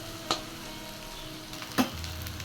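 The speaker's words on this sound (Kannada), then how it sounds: "ಆನಿಯನನ್ನು ಫ್ರೈ ಮಾಡ್ತಾ ಇದ್ದೇನೆ" Onions frying in oil with green chilies in a home kitchen pan, a steady soft sizzle with two sharp stirring clatters near the start and middle, no talking.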